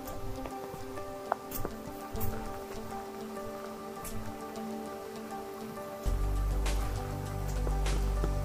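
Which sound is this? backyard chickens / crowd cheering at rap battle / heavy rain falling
heavy rain falling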